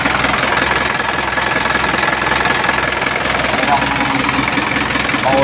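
Isuzu 4HF1 engine running with heavy blowby, a loud, close, steady knocking idle that holds without a break from start to finish.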